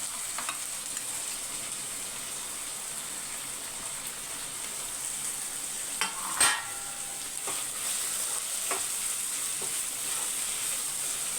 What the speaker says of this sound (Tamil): இப்போ தக்காளி கூடயே நம்ம வந்து கேரட்டு பீன்ஸையும் போட்டுடலாம்